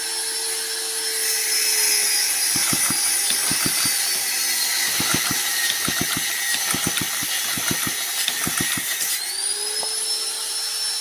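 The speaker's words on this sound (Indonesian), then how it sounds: "Kita coba engkol apakah masih ngelos atau enggak setelah ganti yang baru." Kick starter on a Honda Supra motorcycle being kicked in several bursts of rapid ratcheting clicks, with a steady engine hum running throughout; close and fairly loud.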